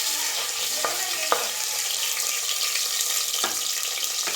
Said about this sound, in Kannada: ಎಣ್ಣೆಯಲ್ಲಿ ಈರುಳ್ಳಿ ಫ್ರೈ ಆಗ್ತಾ ಇದೆ.